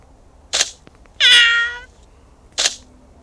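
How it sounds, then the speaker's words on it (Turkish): A cat meows close by: a short chirp, then a longer clear meow, then another brief call, each separated by quiet pauses. "Çok tatlı kedi."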